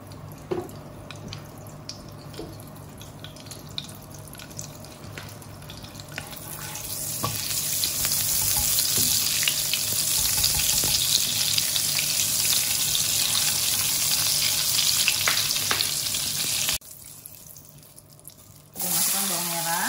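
Shallots, garlic and chili hit hot oil and melted margarine in a pan for Indonesian fried rice, a soft crackle that swells into a steady loud sizzle, briefly dips, then returns.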